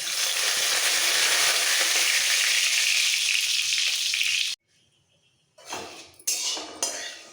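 Curry leaves and black mustard seeds temper in hot oil with a loud, bright sizzle for several seconds. It cuts off abruptly, then returns in short bursts mixed with pan and utensil clatter.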